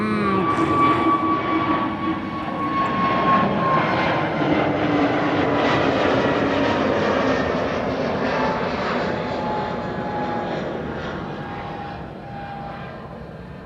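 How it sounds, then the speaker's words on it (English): A wide-body airliner takes off from the runway at Amsterdam Schiphol on a sunny day, heard from close by as a loud, steady jet-engine roar with a whining tone that slowly fades as it climbs away. "That's 2 more wide bodies that will be taking off via the runway that we're standing next to."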